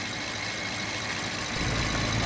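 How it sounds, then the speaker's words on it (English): A Rolls Royce Dawn V12 engine idles with the hood up, a smooth, steady low rumble heard up close with a slight swell toward the end. "But you can hear that is one quiet V12 engine, even with the hood up."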